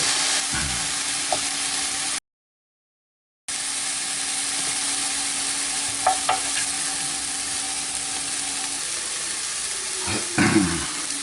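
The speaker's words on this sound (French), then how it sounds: "on remue et on laisse quelques minutes caraméliser le sucre avec le beurre et les pommes" Sliced apples caramelize with sugar and butter in a pan, giving a steady, bright sizzle broken by occasional clinks and scrapes of the stirring utensil. It sounds close, with a brief gap of silence early on and no voices.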